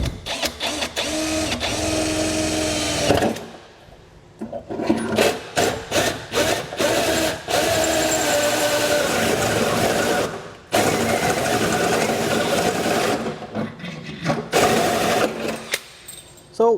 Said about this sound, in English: We're going to drill out our hole here.